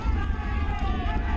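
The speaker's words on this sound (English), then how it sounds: "The wind is picking up a little bit now." Wind gusting across an outdoor clay tennis court, a steady broad low rumble of buffeting air on the microphone, continuous and fairly loud throughout.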